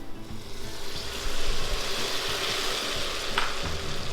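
Soy sauce hits melted caramelized sugar in a hot pan, giving a steady crackling sizzle with stirring, close and moderately loud, with no talking.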